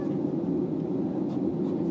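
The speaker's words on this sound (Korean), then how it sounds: "전 지금 비행기 안에 있어요." Inside a parked airliner cabin as passengers board, a steady, broadband low rumble of ventilation and engine drone fills the air continuously, moderately loud, with no speech.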